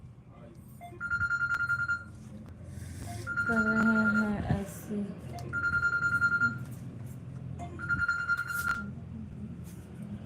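A phone rings in repeated electronic bursts, four trills spaced a couple of seconds apart, moderately loud beneath talk and background music during an Avadhi bhajan livestream.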